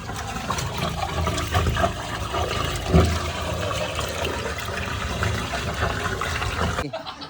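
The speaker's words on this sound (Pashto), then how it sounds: "دا ګورئ دلته اوبه ځي لاندې" Rainwater pouring down and flowing through a flooded room, a continuous rushing, splashing gush that stays loud and close, with one brief louder splash, then cuts off at the end.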